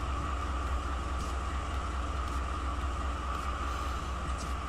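A distributed power locomotive on a heavy stack train in the Tehachapi Mountains rumbles past at a distance, giving off a steady low drone with a faint sustained tonal hum.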